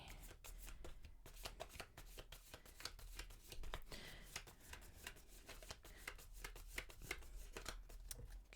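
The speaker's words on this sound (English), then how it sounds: "start out with a bit of a shuffle and we'll see what the cards have to tell us today" A deck of tarot cards shuffled over and over, quick riffling bursts and soft slaps continuing steadily at close range with no talking.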